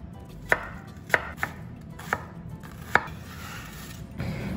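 A knife chops food finely on a cutting board in five or six sharp, separate knocks at an uneven pace, close and distinct over a quiet kitchen background while a chicken croquette dish is prepared.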